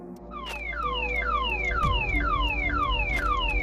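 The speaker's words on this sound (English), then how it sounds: "the car rearmed itself, and the alarm blared through the quiet night" An SUV's car alarm blares at night, a repeating falling electronic whoop cycling rapidly over a low engine-like hum, loud and close.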